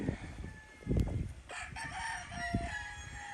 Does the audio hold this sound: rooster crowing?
yes